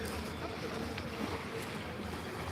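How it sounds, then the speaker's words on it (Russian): A motorboat moves off a calm evening beach at Gurzuf, a faint low engine hum under wind and gentle water noise, steady and distant. "Катер поплыл куда-то."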